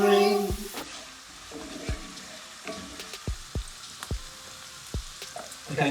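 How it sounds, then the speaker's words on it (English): Onion and bacon frying in a pan give a steady, close sizzle, broken by several sharp knocks and taps from stirring utensils. "smell of frying onions and cooking bacon"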